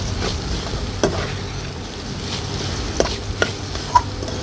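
Crushed garlic and grated coconut sautéing in a pan, a close steady sizzle broken by several sharp spoon scrapes and taps against the pan, no speech.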